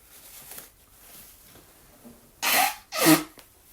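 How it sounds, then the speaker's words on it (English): A person blowing their nose, two loud, sharp honking bursts close to the microphone after a few quiet seconds of faint shuffling. "I've got to blow my nose"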